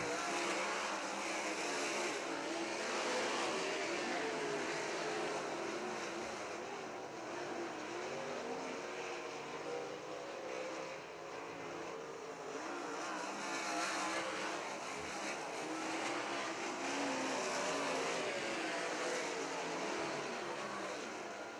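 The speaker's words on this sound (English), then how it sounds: "Frank Neal rounds out the top 4 in the number 88 machine" Race cars circle Crystal Motor Speedway during a GLSS heat race, their engines a continuous, fairly distant roar that swells and fades as the pack passes, with no voices above it.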